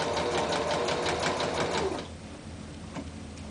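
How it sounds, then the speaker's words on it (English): A sewing machine back stitching a dart tuck whirs steadily up close for about two seconds, then drops to quiet with faint handling noise. "I'm going to do some back stitching and then continue on that straight line"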